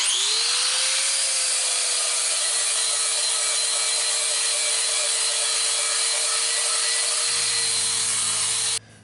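An angle grinder fitted with a flap sander polishes a new cast iron pan, giving a loud, steady high whine with rough grinding hiss throughout before it cuts off abruptly at the end.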